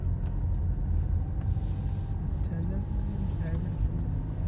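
A car drives slowly through the Hacienda Lake Plaza shopping center, a steady low engine and road rumble with occasional faint squeaks, while people talk inside.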